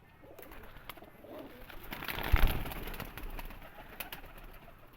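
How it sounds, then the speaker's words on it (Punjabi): Caged pigeons of a prized bloodline coo softly in a rooftop loft, a low murmuring that swells briefly midway and sits at moderate distance among faint background noise. "ਇਹ ਵੇਖੋ ਕਬੂਤਰ ਕਰੀਚ 'ਚ ਨੇ ਅਸਲ 'ਚ"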